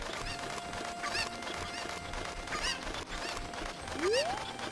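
Repeated clucking and squawking from a chicken in The Legend of Zelda: Ocarina of Time, a few short calls spaced across the moment over steady game background sound, ending with a rising tone.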